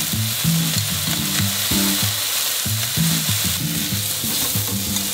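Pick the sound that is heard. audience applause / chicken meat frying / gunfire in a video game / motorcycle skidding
chicken meat frying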